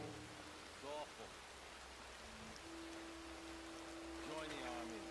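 Steady broadband rain hiss in Red Dead Redemption 2, a constant wet wash beneath sparse voices and tonal game sounds, with a sustained musical note drifting over the second half.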